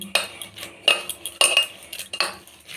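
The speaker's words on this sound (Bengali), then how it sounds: "ভাতটাকে ভালো করে চটকে নিতে হবে খুব ভালো করে" Cooked rice being mashed by hand in a bowl, giving soft squelching presses with sharper utensil clinks in short bursts, close and fairly loud with brief pauses between.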